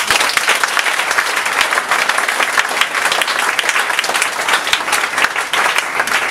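A church congregation claps and cheers for Jesus, a continuous loud wash of applause with scattered shouts, steady from start to finish.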